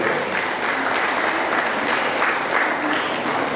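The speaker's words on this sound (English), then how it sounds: "Sunita really deserves once again a round of applause" A crowd at a Street Providence anniversary event gives a round of applause for a dancer's performance, steady dense clapping that runs the whole time without talk.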